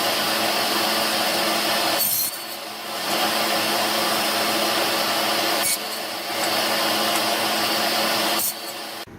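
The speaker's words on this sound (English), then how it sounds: "Next step was to chamfer all of the edges on the router table." A router table whines loudly as it chamfers the edges of small wooden bricks made from scrap wood, the steady cutting roar dipping briefly each time one piece is finished and another is fed in.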